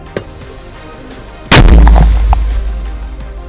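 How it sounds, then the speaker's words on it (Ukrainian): A single deafening artillery blast erupts close by at a Ukrainian frontline position, followed by a long rumbling roar that slowly fades. "Постріл!"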